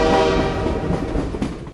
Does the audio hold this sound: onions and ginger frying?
no